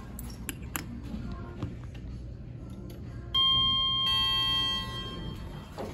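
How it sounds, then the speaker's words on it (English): Bell on a 2003 Kone hydraulic elevator at a Nordstrom store rings as a bright sustained ding partway through, over quiet mechanical ticks and room noise. "Let's watch it close up here so we can hear the bell ring."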